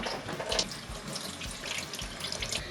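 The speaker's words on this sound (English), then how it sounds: "First, we wash our hands." Hands are washed under a running kitchen tap before making leprechaun cupcakes, a steady close stream of water splashing with small shifting surges, no voices.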